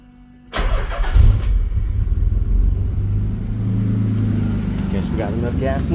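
A Nissan D21 Hardbody pickup's engine cranks and fires right up after a fuel cell, pump and regulator install, then settles into a steady, loud idle rumble close by, with no one talking over it.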